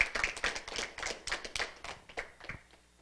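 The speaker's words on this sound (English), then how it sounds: "Y'all give them a round of applause as well." A group claps in applause for the parents at an 11U national basketball championship media day, a brisk burst of hand claps that thins out and fades away over a few seconds.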